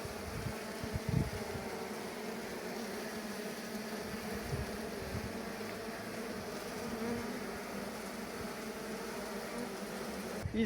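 Honeybees swarm and hum steadily around an open hive holding two queens in isolator cages, a dense continuous buzz lasting throughout with a few brief louder passes close by.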